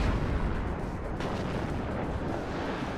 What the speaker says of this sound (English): I have my artillery going out right now for another super heavy